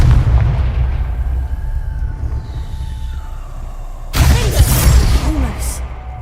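Bombarda and Confringo explosion spells in the Hogwarts Legacy video game: a deep, steady rumble builds under the scene, then a sudden bright blast bursts in near the end and rings on loudly.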